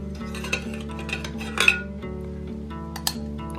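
Parts of an alcohol camping stove being packed into a 650ml camping pot, giving soft metallic clinks and scrapes with a few sharper clicks over a steady low hum.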